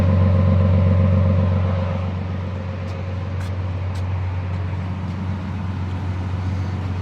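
Exhaust from a 2023 Toyota Sequoia TRD Pro, a loud, steady low engine drone close by that eases slightly after the first couple of seconds and then holds an even rumble.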